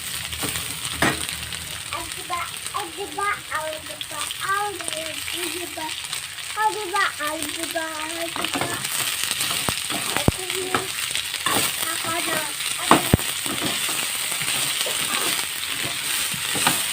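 Taro stolons fry in a pan with a steady, close sizzle, punctuated by clinks and scrapes of stirring, while someone talks over the cooking for much of the time.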